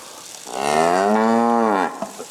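A loud, drawn-out cattle moo rising and holding for over a second before tapering off, heard close and alone against faint farm background.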